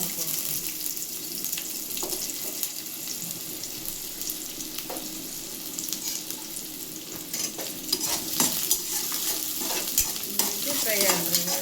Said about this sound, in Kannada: ಉಳ್ಳಾಗಡ್ಡಿ ಫ್ರೈ ಮಾಡ್ಕೊಳ್ಳೋಣ.